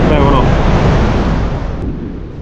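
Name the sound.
strong wind while paragliding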